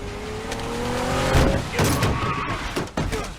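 A car in a John Wick action-movie scene skids with a loud tire squeal and engine roar, then thuds and crashes with sharp impacts. The whole burst is short and close, with no talking.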